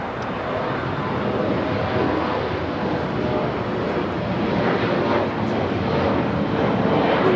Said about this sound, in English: Next takeoff is an E-Jet heading to Omaha, Nebraska.